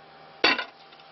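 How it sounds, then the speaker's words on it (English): A lid set down on a pot of homemade bolognaise sauce, giving a single sharp metallic clank that rings briefly and fades, close and clear in a quiet kitchen. "Lid on."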